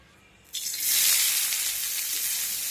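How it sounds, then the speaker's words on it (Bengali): Bitter gourd pieces drop into two tablespoons of hot refined oil in a wok: after a brief quiet moment comes a sudden loud sizzle that swells, then settles into a steady, close frying hiss. "এখন করলাগুলো এই রিফাইন্ড তেলের মধ্যে দিয়ে ভেজে নেব।"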